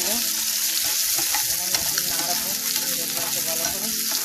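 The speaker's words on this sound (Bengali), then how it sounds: "ফ্রাই প্যানের মধ্যে চিংড়িগুলা ভেজে ফেলবো।" Washed shrimp fry in mustard oil in a frying pan, a loud, continuous close sizzle with stirring scrapes and crackling throughout, no speech.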